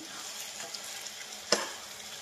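Brinjal and tomato curry being stirred in a pan, a steady soft sizzle with one sharp scrape of the utensil near the end, close and without voices.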